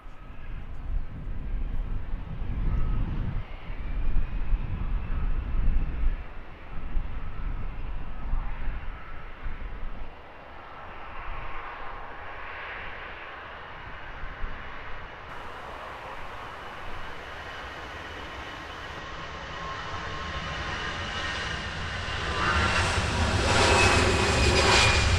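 EasyJet airliner bound for Palma at London Luton Airport, a heavy engine rumble that rises into a loud, whining jet roar toward the end, heard from a distance outdoors.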